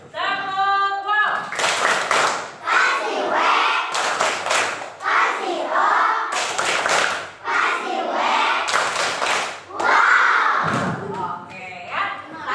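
A classroom of primary schoolchildren in Indonesia chants and does the rhythmic "tepuk wow" clap in repeated bursts. The loud group voices mix with sharp hand claps, separated by brief pauses.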